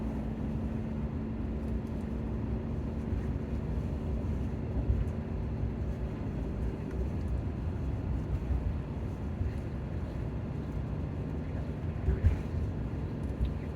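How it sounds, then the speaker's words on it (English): A Class B RV engine drones steadily in the cabin while climbing a mountain road, a low continuous hum with faint shifts in pitch and no speech. "You can hear it downshifting."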